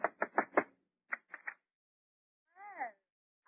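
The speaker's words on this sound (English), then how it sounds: "Go ahead, knock on the door." Knuckles rapping on an apartment door, a crisp close burst of four knocks followed by a quicker set of three, then a short spoken exclamation from a voice.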